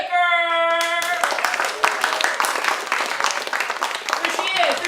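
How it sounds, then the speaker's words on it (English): An audience breaks into a lively round of clapping and applause, dense and sustained for several seconds after a brief sung or spoken tone at the start, with voices mixed in. "Let's give a horse-shinish round of applause"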